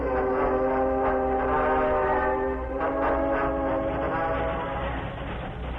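A speeding train in an old radio drama, with a sustained horn-like whistle tone over a rumbling, clattering rail roar, loud and continuous, band-limited like a vintage broadcast.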